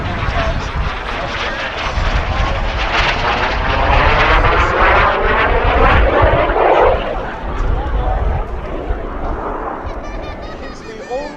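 A Sonex SubSonex mini jet, a 16-foot single-seat aircraft, roars past at an air show, its engine rising to a loud sweeping pass and then receding, with a voice talking over it.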